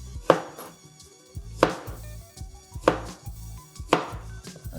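Four evenly spaced, crisp knife chops through green plantain on a cutting board, each a sharp close thud about every second and a quarter, with quiet between strokes.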